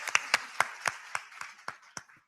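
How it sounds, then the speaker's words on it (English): A handful of people clap at a women's empowerment gathering, about nine separate, evenly spaced claps rising sharply and fading quickly, fairly close and moderately loud, with no speech over them. "yes, a round of applause for that"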